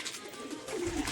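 Kept pigeons gather and give a low, rolling coo near the end, set against a faint ambient hum with no speech.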